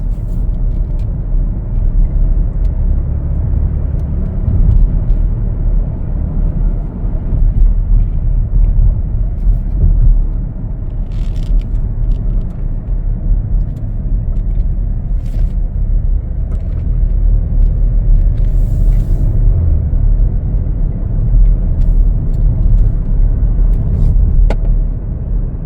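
2020 Chevrolet Traverse AWD 1LT driving on a road, heard from inside as a steady low engine and road rumble with tire noise, constant throughout with faint occasional creaks, no talk.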